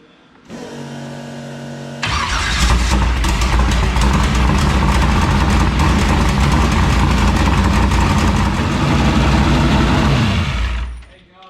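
A freshly installed engine in a 1976 Vega drag car cranks briefly, then fires and runs with a loud, rough, heavy rumble for about nine seconds before being shut off; close and dominant.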